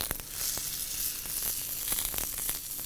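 Chicken livers searing on an outdoor grill with a little oil give a steady bright sizzle and crackle with scattered sharp pops, close and unbroken, with no talk.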